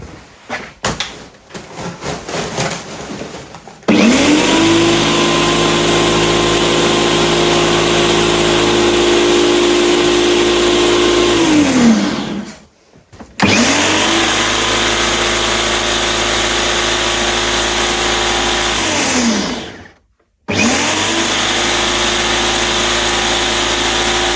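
A small petrol engine on a lawn mower fitted with trimmer line roars at high revs, loud and close, cutting out abruptly twice and restarting each time, after a rough, sputtering start.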